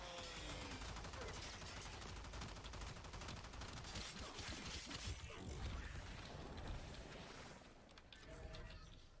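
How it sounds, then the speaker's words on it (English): Enemy gunfire crackles steadily through the Warframe game's combat mix, dense and continuous bursts of shots and impacts layered with mechanical clatter for the whole stretch. "they're shooting me, and I don't care"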